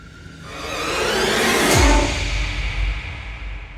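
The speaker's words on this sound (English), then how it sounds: "it's pretty basic, just some risers and impacts" Music-production transition effect: a rising swoosh riser swells over a couple of seconds, then a deep booming impact drops in and rumbles out, alone with no talk.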